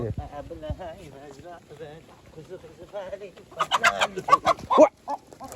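Chickens cluck and squawk nearby on a farm, getting louder and more agitated toward the end, with people talking over them.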